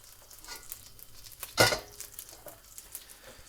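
Ingredients for chicken dopiaza hitting hot oil in a pan, a sudden loud sizzle burst that flares sharply then settles into a fainter crackling fry.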